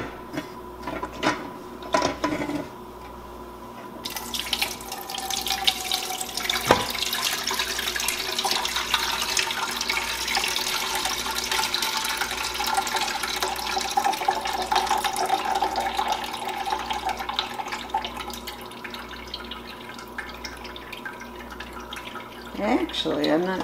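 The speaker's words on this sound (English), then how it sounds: "Now I'm just doing the first straining." Spruce tip jelly liquid being strained through a strainer into a pasta pot, a steady stream of water pouring and splashing for most of the stretch, with drips at the start and end.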